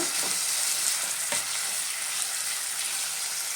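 Chopped medium tomato sizzling steadily in hot oil in a pan for radish sambar, a continuous bright frying hiss with a few soft stirring scrapes early on, close and even, no voices.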